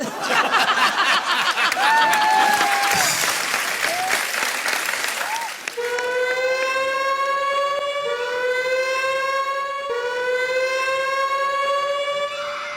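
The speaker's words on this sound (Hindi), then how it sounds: "मैं आपको बता दूं, एक सायरन है, ये जब भी बजता है" Applause and crowd noise fill the start, then a rising and falling siren wails repeatedly, loud and sustained over the fading crowd.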